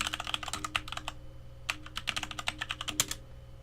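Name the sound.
typing a command on a computer keyboard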